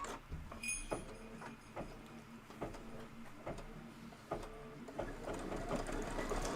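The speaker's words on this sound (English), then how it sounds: "It is going to stitch out the number 14." An embroidery machine stitches out the number 14 for a Kimberbell Cup of Cheer project, producing repeated clacking needle strikes and whirring motor runs in uneven bursts, close by and moderately loud.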